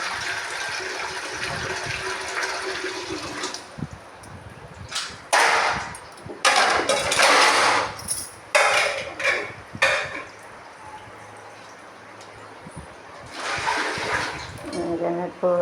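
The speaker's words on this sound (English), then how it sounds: "Pour the water more steadily, it's little water, pour water" Water splashes and gushes in uneven bursts as it is poured, with a voice talking over parts of it nearby.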